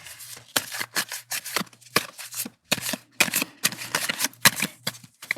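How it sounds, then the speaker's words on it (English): A deck of oracle cards is shuffled by hand up close, giving quick repeated riffling bursts with short pauses between them, quiet and alone. "And now let's cue some ASMR shuffling that we already know is not ASMR shuffling"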